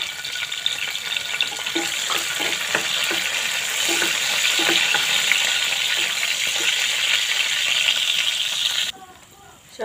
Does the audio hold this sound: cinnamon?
yes